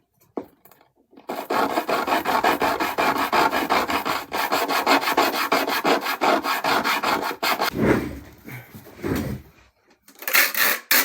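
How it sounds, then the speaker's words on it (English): Tops of pottery pieces sanded on a small square of 220-grit sandpaper, a steady rhythmic rasping scrub that runs loud and close for several seconds, pauses briefly, then resumes in shorter strokes. "I'm gonna sand all the tops of these"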